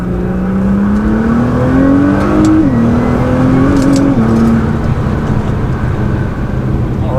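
Nissan GT-R with a new exhaust and the stock muffler still fitted, revving up in a rising then stepping engine note, loud and close with a deep rumble, no talking.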